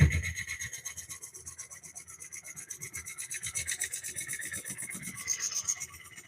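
A less aggressive scraper cuts a wooden bowl spinning on a woodturning lathe, making a close, rhythmic rasping scrape that pulses with each turn and grows a little louder toward the end.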